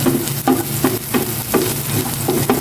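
Peanuts frying in oil with a little garlic and chili, a close sizzle with a rhythmic scraping stir repeating about every half second.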